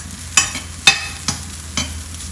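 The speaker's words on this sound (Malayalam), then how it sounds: "തേങ്ങ നല്ലപോലെ മൂത്ത് വറുക്കണേ" Grated coconut roasting in a pan, stirred with a metal spatula: four sharp scraping clacks at intervals over a low continuous sizzle, close and fairly loud.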